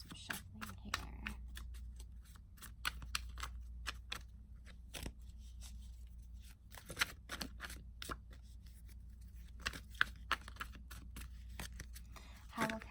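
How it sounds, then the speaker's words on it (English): Tarot cards are shuffled close by in a long run of crisp riffles and slaps, irregular and quiet against a low background hum. "Let's take a look at these cards. Some shuffling here."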